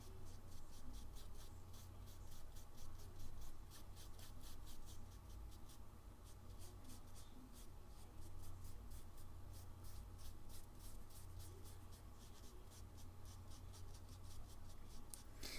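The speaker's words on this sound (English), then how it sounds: "I don't know if you guys can actually hear my brush on the paper" Soft continuous scratchy brushing of a paintbrush laying watercolor on toned paper, a steady close rubbing texture with repeated faint strokes, quiet and alone.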